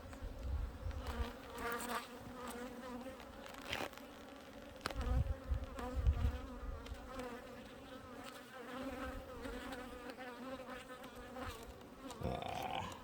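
Honeybees swarm and drone steadily around an opened backyard beehive as it is being put back together, a dense continuous buzz close by, with occasional knocks and handling noises of the hive parts.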